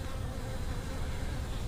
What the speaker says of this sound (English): Good colony of bees.